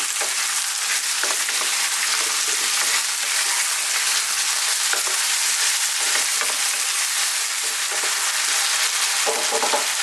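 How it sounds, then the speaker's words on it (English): Garlic ginger paste fries over fairly vigorous heat in a pan while it is mixed in, giving a dense, steady, close sizzling hiss with faint scraping underneath. "We're going to mix this in. We're going to keep it on this kind of fairly vigorous heat"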